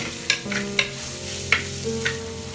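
Chicken curry frying and being stirred in a clay pot, a steady sizzle with a few sharp spoon scrapes and knocks against the pot, close and alone.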